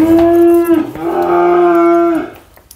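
A cow gives a loud, close, drawn-out moo lasting over two seconds at a livestock market, with a brief break partway through, then fades into quieter background.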